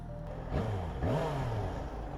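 A four-cylinder motorcycle engine revs up twice in quick succession, pitch rising and falling, close by over a steady idle rumble.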